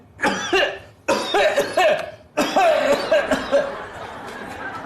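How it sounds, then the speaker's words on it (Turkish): Several rough coughs come in three bursts, close to the microphone, with throaty, strained edges and short pauses between them. "Bunun içine öksürün."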